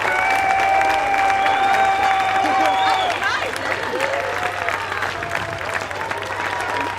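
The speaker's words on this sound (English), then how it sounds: "How about another round of applause for our band seniors, class of 2021." A concert audience applauds the band seniors of the class of 2021, steady sustained clapping with some cheering and a held tone at the start.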